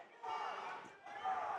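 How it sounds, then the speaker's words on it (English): A college basketball crowd at Valparaiso yelling in protest at a foul call, a loud, sustained roar of many voices that swells, dips briefly and rises again. "a lot of yelling by the crowd here"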